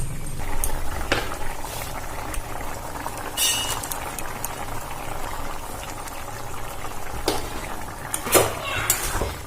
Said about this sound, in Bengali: এটা ফুট ধরে গেছে